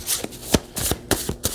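A deck of tarot cards is shuffled up close in a rhythmic series of crisp riffling bursts, about six in quick succession, each a short papery rush of cards. There is no talking.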